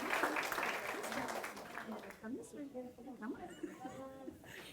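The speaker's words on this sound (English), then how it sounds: "Let's give one last round of applause for our first group of babies." A school assembly audience claps for a group of young children leaving the stage. Dense clapping fills the opening two seconds, then thins out as an adult voice speaks over the last of it.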